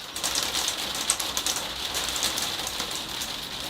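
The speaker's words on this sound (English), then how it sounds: "I can hear the freezing rain on the roof of the greenhouse." Freezing rain pattering on a greenhouse roof, a steady dense hiss of fine ticking drops, even and continuous with no voices.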